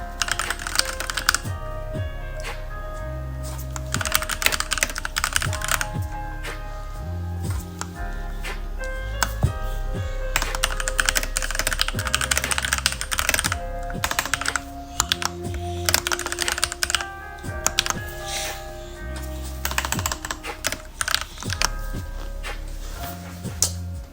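Steady typing on a computer keyboard, with rapid close clicks and key taps in uneven bursts running throughout, no voices.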